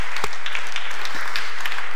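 Enthusiastic audience applause at the closing of the WordCamp Europe 2016 conference, a loud, dense burst of many hands clapping with a few sharper nearby claps standing out.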